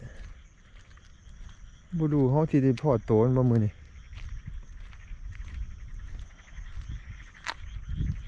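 Frogs croak and chirp in the night air after fresh rain in Japan, a faint steady chorus under a voice speaking close by.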